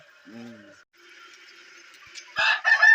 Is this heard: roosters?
yes